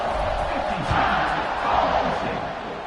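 A stadium crowd in an American college football video game roars steadily at kickoff, a dense, continuous wash of cheering with swells that stays loud throughout.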